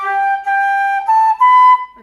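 Traditional flute playing a short phrase of high G, high A and high B: clear, breathy sustained notes stepping upward in four tongued segments, close and loud with no talking.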